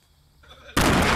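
A grenade explodes in a competitive video game match, a sudden loud blast after a quiet, rising lead-in, then a sustained roar.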